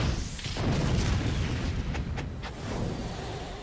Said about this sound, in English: They're working together to stop the Bullet Bill bombardment